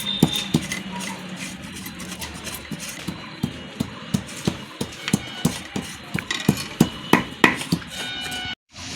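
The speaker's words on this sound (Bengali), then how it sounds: "এই যে মানগুলোকে কুচি করে কেটে নিয়েছি, এবার থেতো করে নিচ্ছি, বাটা হবে।" Chopped giant taro (maan kochu) pounded into paste, a run of hard, regular thuds with a clattery edge, close and steady, ending in a brief pause.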